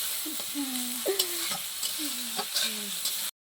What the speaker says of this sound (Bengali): মশলা কষিয়ে নিয়ে এই যে মিশি গোশ কষায় নিচ্ছে